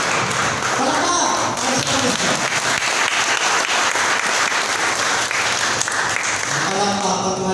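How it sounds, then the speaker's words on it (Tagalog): A church congregation claps and applauds loudly and continuously through a worship service, with crowd voices mixed into the dense clapping. "Palakpakan natin ang Panginoon."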